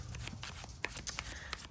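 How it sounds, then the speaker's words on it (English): Tarot-style cards are shuffled for a collective reading, giving a run of close, soft riffling and flicking bursts with a few sharper snaps, heard alone without talk. "I just want to get a really good shuffle."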